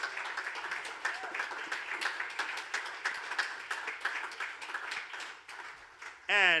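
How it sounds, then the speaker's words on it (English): A room at a 2020 entrepreneurship awards ceremony claps steadily for an award winner, a moderate and fairly even round of applause lasting about six seconds before a brief sharp tone cuts in at the end. "A round of applause, please, for Undombi Nongoba and her team at Rise"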